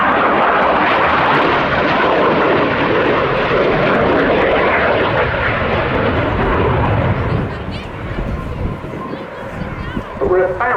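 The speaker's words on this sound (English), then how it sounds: "we're about in this display to start seeing the Harrier's essential capability come into its own, namely the thrust vectoring" Spanish Navy EAV-8B Harrier II jet roaring through a flying display at an air show, a loud, sustained blast of engine noise that eases somewhat near the end, with a commentator talking over it.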